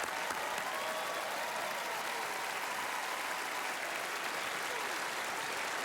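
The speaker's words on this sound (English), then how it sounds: "Let's give Alyson a nice round of applause." Studio audience applauding on the Penn & Teller: Fool Us stage, a dense, steady wash of clapping from a large crowd that holds at an even loudness for several seconds, with no voices above it.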